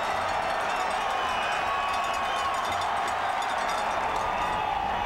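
A big football stadium crowd roars steadily on a fourth-and-goal play in a college game between Colorado and Colorado State, a loud, sustained wash of cheering and shouting.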